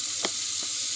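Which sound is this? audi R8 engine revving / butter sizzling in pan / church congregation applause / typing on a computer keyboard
butter sizzling in pan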